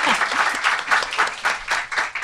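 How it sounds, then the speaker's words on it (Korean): Brief burst of studio audience applause, loud and dense clapping from a crowd, steady for a couple of seconds without speech. "박수"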